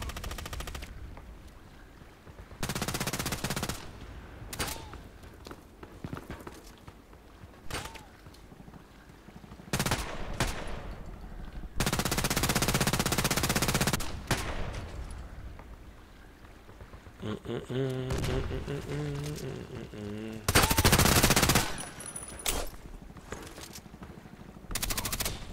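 Bursts of automatic gunfire from the online shooter game Contract Wars, several separate volleys spaced across the stretch over background game noise, with a voice talking in places.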